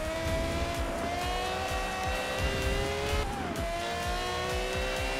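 A Porsche race car in Forza Motorsport 7, its engine holding a steady high-pitched drone with shifting revs and a tyre squeal, loud and close and heard alone without talk.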